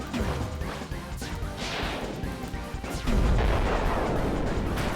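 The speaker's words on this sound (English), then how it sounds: "I love that Toby's getting his absolute most mileage out of the explosion SFX." Repeated explosion sound effects in the Deltarune video game: several crashing blasts in quick succession, with a louder burst near the end, layered over busy game music and effects.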